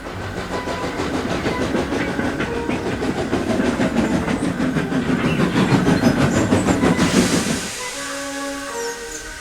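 Thomas the Tank Engine pulls a train along rails at a junction with a steady rolling rumble and rhythmic clickety-clack. Near the end it gives way to quieter ambience with tonal notes.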